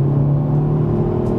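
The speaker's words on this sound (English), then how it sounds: "It does crackle a little bit more, though, this one. It's got that Remus on there." A Hyundai i30N with a Remus exhaust gives a loud, close, steady engine drone with a deep rumble. No distinct crackles stand out, and no voices are heard.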